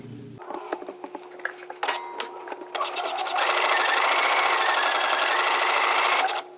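A sewing machine stitches a gathering row at 5/8 inch, starting with a few clicks and handling of fabric, then running in a steady, close whir that stops near the end.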